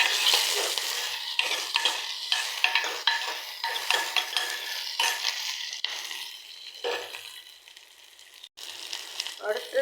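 Onion and garlic stir-fried in a pan after mustard seeds have popped, giving a steady sizzle broken by repeated scraping spatula strokes in an uneven rhythm, close and moderately loud.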